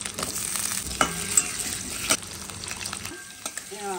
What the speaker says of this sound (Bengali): মাছ ভাজার তেলের মধ্যে আমি দিয়ে দিচ্ছি আলুগুলো,